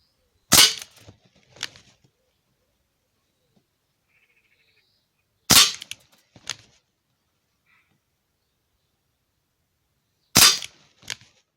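Three sharp, loud shots from an Umarex Tornado air gun firing lead pellets, evenly spaced about five seconds apart, each followed by a faint impact or mechanical click, with quiet between.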